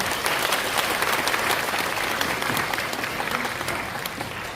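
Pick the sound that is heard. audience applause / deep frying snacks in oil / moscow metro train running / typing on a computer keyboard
audience applause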